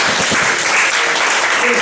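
A comedy club crowd at an improv night bursts into loud, steady applause and cheering to vote for a performer, dense clapping from start to finish.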